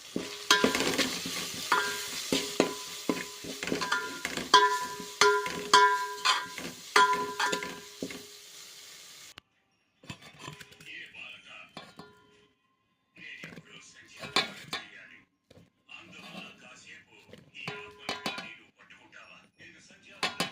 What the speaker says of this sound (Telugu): ఇది వేసి బాగా మిక్స్ చేసేస్తామండి